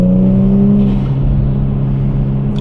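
Four-door sedan accelerating on a late-winter drive, a loud close engine drone with a steady harmonic whine that holds and then eases into road rumble, with no voices.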